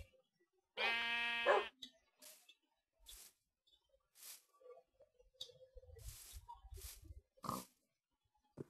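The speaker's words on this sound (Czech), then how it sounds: "A vidím prase." Pig grunts from the video game Minecraft: a loud tonal oink near the start, then scattered softer grunts and game noises spread across a quiet background.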